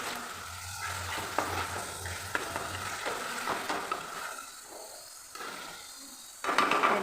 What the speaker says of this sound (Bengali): দেখো একদিক নাড়তে নাড়তে আবার আরেক দিকটাও হয়ে আসছে,